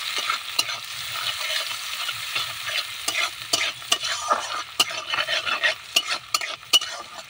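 Chopped onions fry in a pan for a Bengali-style egg curry, with a continuous sizzle broken by frequent sharp scrapes and clicks of a spatula stirring, close and busy, no voices.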